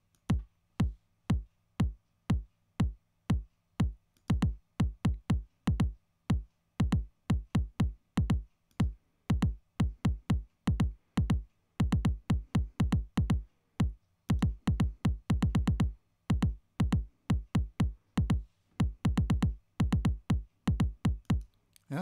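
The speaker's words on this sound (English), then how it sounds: "that gives some very quick and simple rhythmic feel to the kick drum part" A kick drum pattern from Reason's ReBeat drum machine with extra random beats added, a steady stream of punchy low thumps that grow busier and more irregular with clustered hits, alone and fairly quiet.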